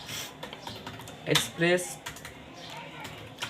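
Fingers tap on a computer keyboard while coding a Node and Express server, giving quick clustered keystrokes close to the mic, with a person talking alongside.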